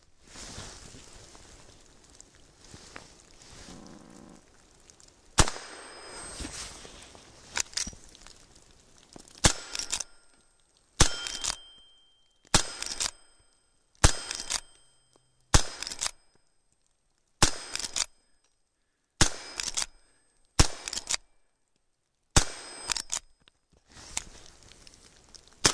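Rifle shots fired outdoors at a log, about a dozen sharp loud cracks at a steady pace of roughly one every two seconds, each ringing out briefly into a quiet background.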